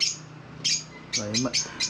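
Short bursts of bird chirps and tweets repeat in quick succession in an aviary, with a brief low squawk-like call in the middle; several birds nearby.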